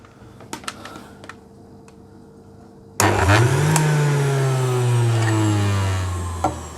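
A Philips HR1832 juicer motor switches on abruptly after a few faint clicks, then runs loud and steady with a whining tone that slowly drops in pitch. It is close and heard alone.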